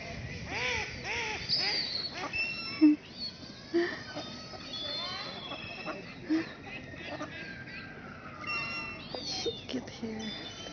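Birds at a park give short, scattered caws, several distinct calls over about ten seconds at moderate distance, while people talk throughout.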